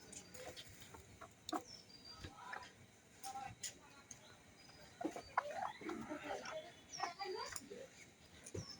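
Native village hens cluck and squawk in short, scattered bursts around a farmyard, close and moderately loud, with a few sharper calls and some faint background noise.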